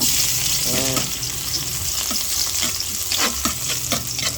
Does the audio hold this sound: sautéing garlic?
yes